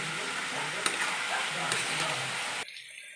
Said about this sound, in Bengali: সমস্ত কিছু দিয়ে আমি ভালো করে মশলাটাকে কষে নেব